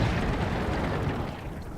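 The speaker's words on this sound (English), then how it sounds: "Artillery takes him out before we can get there" A deep, rumbling artillery shell blast in World of Tanks rolls out near and heavy, then decays over about two seconds.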